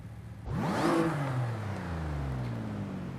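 A supercharged V6 car engine in Forza Horizon 5 revs up sharply, its pitch climbing quickly before settling back into a steady, loud drone with no talking.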